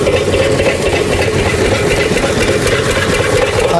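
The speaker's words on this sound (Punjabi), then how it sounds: "ਚੱਲ ਰਿਹਾ ਜੀ ਇੰਜਨ" A water pump engine runs at a riverside farm, a close, loud, steady low chugging drone with constant mechanical vibration and no voices.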